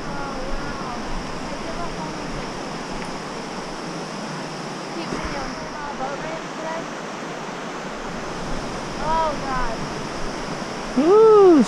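The Toxaway River rushes below a long suspension bridge on a Foothills Trail hike, a steady broad wash of flowing water under faint voices, with a sharp high squeak right at the end.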